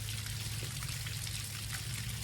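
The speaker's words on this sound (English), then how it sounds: "I got the water turned on" Water runs steadily from a hose through flush muffs on a Tohatsu 40 outboard engine, giving a constant close trickling rush over a low hum.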